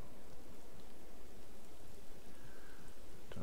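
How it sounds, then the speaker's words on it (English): Steady rain falls in the video game Tears of the Kingdom, a soft, even hiss of droplets that holds at a constant level throughout with no talk over it. "let's just wait for the rain to stop."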